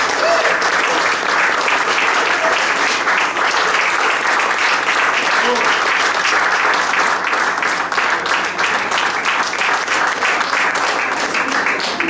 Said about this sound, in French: On peut vous applaudir aussi.